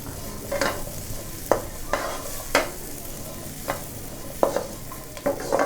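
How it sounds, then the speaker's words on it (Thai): Ingredients dry-roast in a pan over medium heat for a Thai Isan jaew pla ra dip, with repeated sharp scraping stirs at irregular intervals over a low, steady sizzle. "แล้วก็จะคั่วให้มันหอมเลย"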